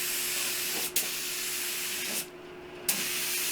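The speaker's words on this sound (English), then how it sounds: "Here I'm going to spray 1 coat of the sand and sealer." A spray gun lays a coat of sanding sealer onto a wooden TV stand with drawers, a steady close hiss that stops briefly twice with short bursts as the trigger is released and pulled again.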